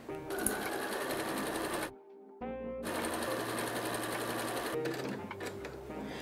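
A sewing machine stitches quilt fabric for a hotpad with a steady, loud mechanical whir and rapid needle clatter, pausing briefly midway before running on again, with no talk over it.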